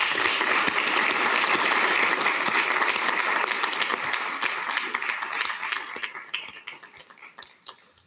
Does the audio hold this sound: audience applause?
yes